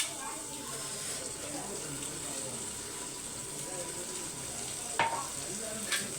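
Pieces of paarai fish head go into hot oil for a coconut fish curry, raising a steady, fairly quiet sizzle and bubbling, with a couple of sharp clinks near the end and a voice faintly present.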